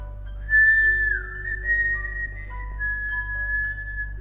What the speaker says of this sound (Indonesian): dia masih sering mendengar suara siulan yang sering disiulkan oleh almarhumah Tari